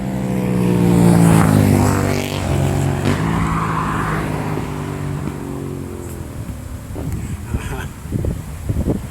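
Another motorcycle roars past on the Dorchester on Thames bypass used as a motorcycle test track, loud and close at first with a falling engine pitch as it recedes, wind buffeting the microphone and someone talking afterward.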